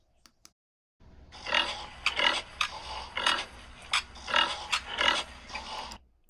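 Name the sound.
pig grunting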